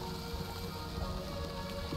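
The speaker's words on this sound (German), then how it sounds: "Leichter Regen. Regen fällt auf Onboard und erhöht die Luftfeuchtigkeit." Light rain in the village-building game The Wandering Village, a steady soft patter of drops with a faint wind-like hiss, continuous and even throughout with no talking.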